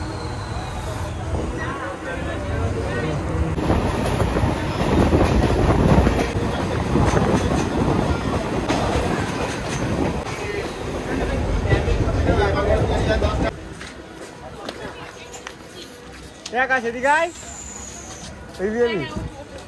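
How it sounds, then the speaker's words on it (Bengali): A train pulls out of Kakinara station and gathers speed, giving a steady rumbling roar with wind buffeting and rail clatter that later drops to a quieter hum, with voices talking over it. "আর দেন এখন ট্রেন ছেড়ে দিয়েছে"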